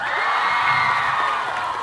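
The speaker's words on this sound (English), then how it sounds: "Give them a round of applause." High school gameday crowd at Atwater High School cheers and whoops, a dense, loud wash of voices for the starting quarterbacks, brief and continuous.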